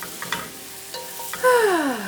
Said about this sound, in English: cooking these down until they begin to quote unquote release their liquids and begin to brown